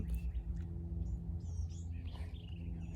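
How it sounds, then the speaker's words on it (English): Faint, quick chirpy phrases of a white-eyed vireo sing from a distance over a steady low rumble of background noise, with no voices. "Oh, there's that white-eyed vireo."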